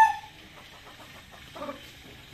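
Halsey gray gamefowl chickens in a breeding pen give a few soft, short clucks, faint and close with quiet gaps between them.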